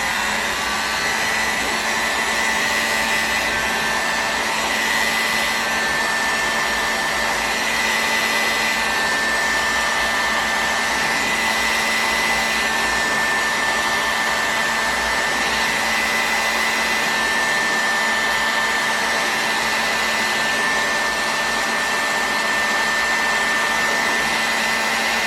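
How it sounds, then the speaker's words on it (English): Heat gun or hair-dryer-style blower warming an OS FS-48 Surpass model engine crankcase before bearing installation, a steady close whooshing roar with a thin whine running unbroken throughout, no speech. "let me heat this crankshaft or crankcase up a little bit more"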